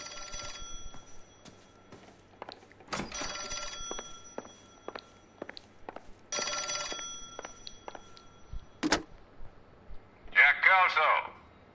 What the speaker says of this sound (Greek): Κάτσε μας παίρνουν τηλέφωνο, τι παίχτηκε μόλις.